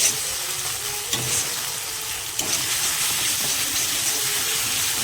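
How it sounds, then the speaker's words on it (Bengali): Spice paste for an egg and pointed gourd curry fries on a medium flame with a continuous close hiss and sizzle. A couple of brief stirring scrapes cut through the frying, and there is no speech. "এবার মশলাটাকে মিডিয়াম ফ্লেমে রেখে ভেজে নিব যতক্ষণ মশলা থেকে তেল না বেরোচ্ছে"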